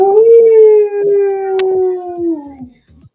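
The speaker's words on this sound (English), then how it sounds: "And you hear a howl of," A monster's long, loud howl from a Doom Saints boss battle, a single drawn-out wolf-like cry that holds steady and then falls away, close and prominent.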